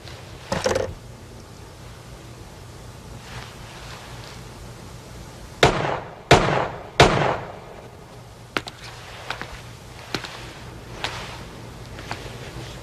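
Gunfire in an action movie scene: a short burst of three sharp shots, followed by several quieter, spaced pops over a steady low background, with no talking.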